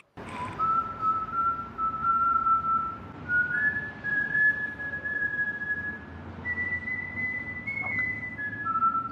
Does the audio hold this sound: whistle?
yes